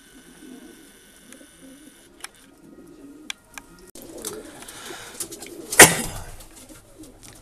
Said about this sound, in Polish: udajemy się do gołębnika lotowego, gdzie teraz przebywają samczyki